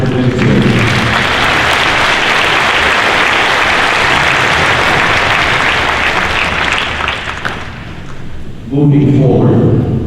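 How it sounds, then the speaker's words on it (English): An audience at an LAPD cadet ceremony gives Lululemon a loud, sustained round of applause that fades briefly near the end before a voice comes in. "I'd like a round of applause to Lululemon if that represents here."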